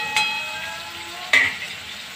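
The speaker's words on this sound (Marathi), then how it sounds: "सॉफ्ट होईपर्यंत आपल्याला हे परतून घ्यायचं आहे टोमॅटो।" Tomatoes are sautéed in a pan for masala pasta with a steady soft sizzle, broken by two sharp clinks of a utensil against the pan, heard close with no voices.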